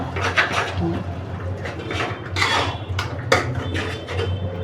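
Mawa stirred into melted sugar for a bottle gourd sweet: a spoon scrapes and clinks against the pan in uneven close strokes, with a few sharper knocks, carried along under a low background.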